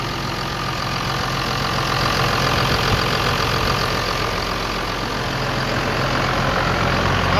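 A diesel engine idles after injection pump work, a steady close rumble with an even mechanical clatter running unchanged throughout, no voices over it.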